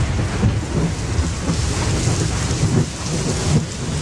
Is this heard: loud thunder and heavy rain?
yes